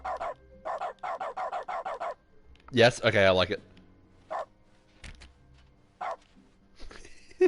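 Dog barks used as the interact sound in The Stanley Parable: Ultra Deluxe, a burst of yipping barks in the middle between short game tones, with a person talking briefly around them.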